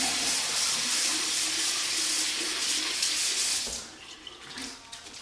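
Hot water runs from a bathroom tap into a sink for rinsing after a safety razor shave, a steady close hiss of flowing water that cuts off partway, leaving faint drips and splashes.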